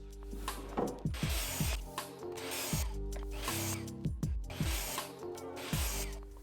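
A miter saw fitted with a dust collection hood makes five cuts in turn, each a rising motor whine and a loud cutting burst, then a spin-down, evenly spaced and close.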